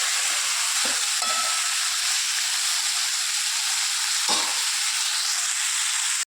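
Spicy chutney ingredients sauté in a pan with a loud, continuous close sizzle and hiss, marked by a few stirring scrapes, with no voices.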